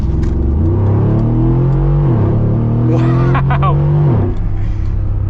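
Brabus 700 G63 G-Wagon V8 engine revving up hard close by, a rising roar that holds then drops back, with a brief exclamation from a voice over the engine.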